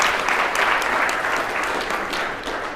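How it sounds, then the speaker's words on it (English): An audience at the HARDI 2019 conference talk claps in sustained, dense applause that fills the room, holding steady and then slowly fading toward the end. "let's give them a round of applause"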